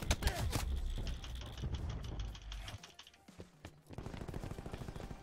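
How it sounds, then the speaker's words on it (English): Rapid bursts of cluster grenade explosions in Apex Legends, a dense, loud crackling volley of blasts with a mechanical rattle that thins out, then resumes more sparsely near the end. "Cluster grenade going out."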